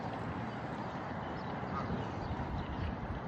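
Birds call and quack continuously outdoors, a dense, steady wash of bird noise with broadband texture and no clear individual calls standing out.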